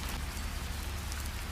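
Steady evening rain falls in the Konkan countryside, a dense, even hiss of drops on surfaces with no gaps or voices.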